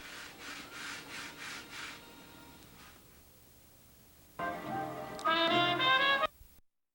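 Model aircraft propellers from a crash repair are sanded by hand: a run of rhythmic rubbing strokes, a quieter pause, then louder, brisker scraping passes close by with no voices.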